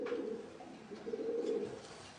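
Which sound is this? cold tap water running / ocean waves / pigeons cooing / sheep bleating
pigeons cooing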